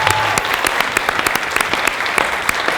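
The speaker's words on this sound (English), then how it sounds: "Please give our models another round of applause." Dense, steady audience applause at a bariatric fashion show as models return to the stage, many hands clapping together at close range for the full length with no talking.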